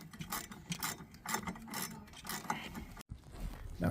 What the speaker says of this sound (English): So now we're just removing the 3 plastic mounts that go in the bottom of the airbox